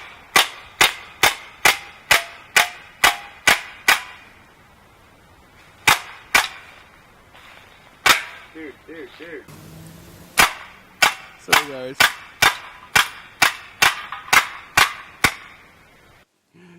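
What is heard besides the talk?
BB air rifle firing bursts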